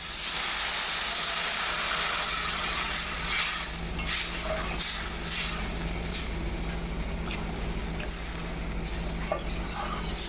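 Water poured into a pan of frying chopped jackfruit, giving a steady, loud hiss of steam and sizzle with faint stirring and clinks of the pan, with no voices.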